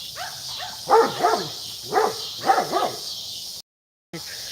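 A dog barks in rapid bursts of sharp, close, fairly loud yips and barks, with a brief drop to silence near the end before the noise resumes.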